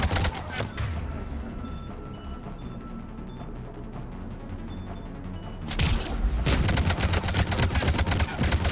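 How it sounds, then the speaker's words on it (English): Mass Effect 3 combat, sustained bursts of gunfire with a thinner rattling stretch before a sudden louder barrage of rapid shots and booms, close and dense. "He's taking fire!"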